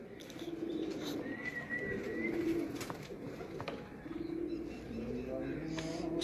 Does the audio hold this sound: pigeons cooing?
yes